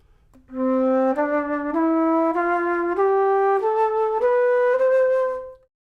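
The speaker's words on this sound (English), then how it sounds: "Below that you have the alto flute," A low, mellow alto flute pitched in G plays a slow stepwise melody of about eight warm, breathy notes, heard alone and close.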